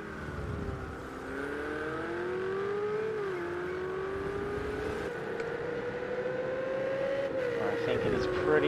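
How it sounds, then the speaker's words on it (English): A Lamborghini GT3 race car engine in Project Cars 2 on Azure Circuit drones steadily ahead, with its pitch climbing and shifting as it accelerates. The engine sounds moderately loud, over continuous track noise. "I think that's a Lamborghini we can hear just ahead"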